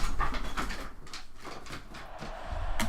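A dog pants in a room with quick, rhythmic breaths close to the listener, accompanied by soft shuffling and a faint whimper, and a brief sharp knock comes near the end.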